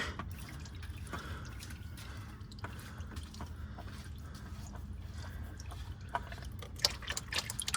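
Motor oil draining from a Ford Fiesta ST during an oil change, a faint continuous trickle and dribble of liquid with occasional drips over low background hum.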